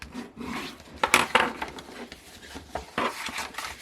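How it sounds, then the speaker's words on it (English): Scored paper for a hexagonal pointed-top gift bag is burnished by hand, giving close, dry rubbing and rasping strokes that come in uneven bursts with short pauses between them. "I'm going to burnish everything, and I'm going to come back in and score"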